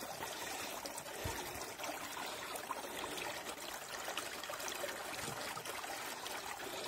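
A foaming stream runs through a gorge near a footbridge, giving a steady, even trickling rush heard alone with no talk.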